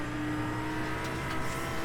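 Race car engine in the iRacing simulator at Okayama, a steady loud droning hum heard from inside the car, held constant for about two seconds with no talk.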